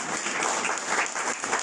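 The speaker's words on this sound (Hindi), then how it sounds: "ताली बजा के प्रभु को धन्यवाद करें।" A church congregation claps in praise, a brief burst of dense, continuous applause from many hands, steady and fairly close, with no speech over it.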